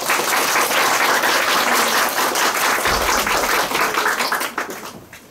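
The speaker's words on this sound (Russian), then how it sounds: "Сергей Шишков, ваши аплодисменты." An audience applauds at a poetry recitation contest, loud, dense clapping filling the room without pause, then thinning and fading out over the last second.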